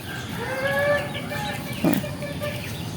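Chickens cluck and call softly in the background against steady outdoor noise, with one short sharper squawk nearby.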